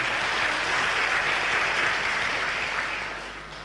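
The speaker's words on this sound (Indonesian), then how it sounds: "Tepuk tangan buat Tuhan." A church congregation claps in a broad, even wash of applause, steady and full throughout before easing off in the final second.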